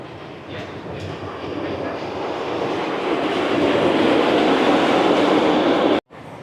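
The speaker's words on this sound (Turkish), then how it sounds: "Yukarıdan giden bir tren şimdi geliyor bakın." An elevated monorail train rumbles past in Malaysia, its broadband roar swelling steadily louder as it draws near, then cutting off abruptly near the end.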